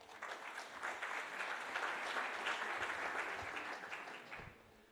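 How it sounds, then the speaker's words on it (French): Applause from an audience at a Paris 2024 presentation at the University of Lille, a dense, even patter of many hands that holds for several seconds and then fades, fairly distant and soft. "Je ne vous ai pas trouvé très, très généreux en termes d'applaudissements"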